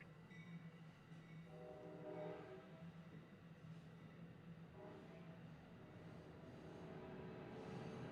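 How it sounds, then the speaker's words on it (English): Two trains passing through a residential neighbourhood, a low continuous rumble of rolling wagons at moderate distance with faint horn-like tones drifting in and out, no talk. "There's 2 trains going, I can tell,"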